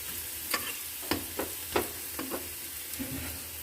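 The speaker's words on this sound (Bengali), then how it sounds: "এবার আমি পেঁয়াজ রসুন লঙ্কা এটা আমি একটু ভেজে নেব।" Onion, garlic and chili frying in a pan, a soft low sizzle under a series of sharp scraping stirs, about eight distinct strokes spaced irregularly, close and fairly quiet.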